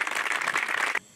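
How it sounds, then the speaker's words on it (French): A short burst of audience applause at a gathering of former workers of the Auron cable car, brisk clapping that stops abruptly after about a second. "Je crois que vous pouvez l'applaudir également."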